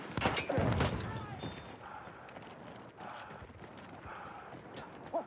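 A horse gallops in the World War I shooter Battlefield 1, its quick hoofbeats mixed with gunfire and battlefield noise, with a short voice early on.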